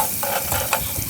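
Chopped medium onion dropped into about half a cup of hot ghee, giving a short, steady, close sizzle with a little stirring, no voices.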